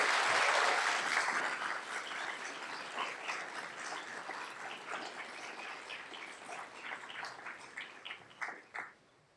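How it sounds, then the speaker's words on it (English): Audience applause at a university chemistry department graduation ceremony, a loud sustained wash of clapping that gradually thins and fades out. "Let's give a round of applause for these students and their accomplishments."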